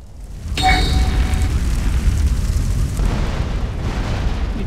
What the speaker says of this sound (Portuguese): E tudo que tiver próximo explode.